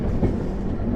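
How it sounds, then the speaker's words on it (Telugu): An express passenger train rumbles along the rails with a low, steady clatter of wheels knocking over track joints, heard from inside the coach with no voices. "ఇప్పుడు నాకింగ్ వినిపించింది కదా మన ట్రైన్ అది."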